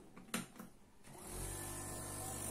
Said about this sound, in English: Let me turn on the printer right now.